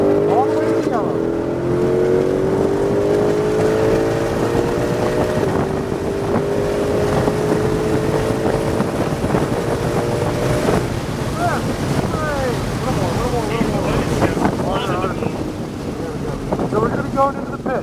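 Ford Shelby Mustang GT500 accelerates on a speedway track, its engine note rising steadily under heavy wind rush inside the car, with a driver and passenger talking over the sustained roar.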